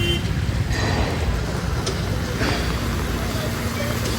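Heavy traffic crawls along a flooded road in heavy rain, a dense rumble of engines and splashing water, with people talking over it.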